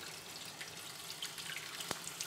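Water pours steadily into a developing tray for wet plate photography, a soft continuous splashing hiss close by, with one brief knock near the end.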